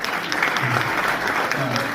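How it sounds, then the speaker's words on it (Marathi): Audience clapping at a network marketing meeting in Nashik, a short burst of dense, even applause from a crowd, fairly loud and close throughout. "टाळ्या वाजवा"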